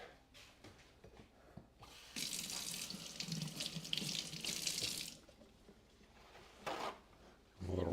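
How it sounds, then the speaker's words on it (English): Tap water runs into a sink while large jalapeños are rinsed, a strong steady splashing rush for about three seconds, then quieter handling and a short second burst. "A little rinse and a little wipe."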